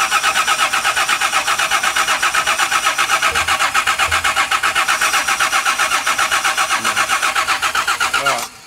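A car engine cranks steadily with the key, a fast rhythmic churning of the starter that goes on for about eight seconds without catching, then cuts off; loud and close.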